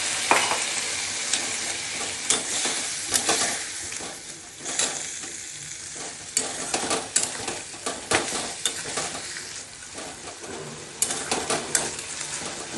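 Water from a mixer jar splashes into hot masala for a hilsa fish curry and sizzles loudly while a spoon stirs and scrapes against the pan in repeated clattering strokes.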